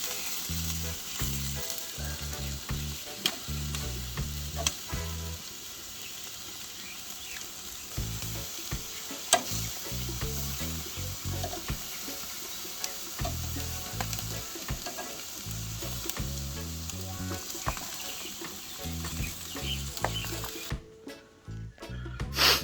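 Fish frying and sizzling in a pan while being flipped during Sunday cooking in Samoa, a steady loud sizzle with scraping and clattering turns throughout, and no talk.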